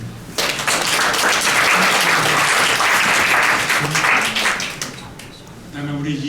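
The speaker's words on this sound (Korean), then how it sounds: "박수 부탁드립니다." Loud, sustained applause from a large crowd at a human rights ceremony, steady clapping for several seconds before tapering off near the end.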